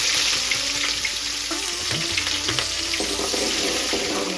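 Mustard seeds, a little cumin, chopped onion and green chili sizzle in hot oil while tempering for a brinjal curry. A steady, close frying hiss carries faint pops and crackles throughout.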